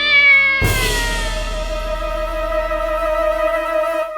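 A cat gives a long, loud, drawn-out meow, with its tone rising and wavering and held for several seconds close by.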